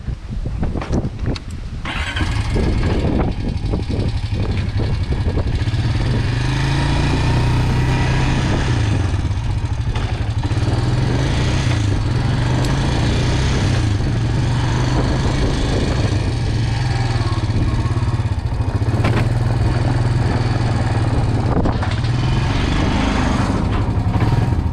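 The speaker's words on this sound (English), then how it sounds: "We're gonna put the four-wheeler in the trailer and take off." A four-wheeler ATV engine runs loud and close for a long stretch, holding a steady, buzzing drone with slight rises in revs while it is loaded onto a trailer, with no talking.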